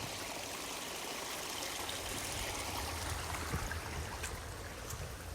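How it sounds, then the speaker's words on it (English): A woodland creek flows steadily past a flat stepping stone, a continuous soft rushing and trickling wash, fairly distant and unbroken, with no voices. "What a beautiful creek."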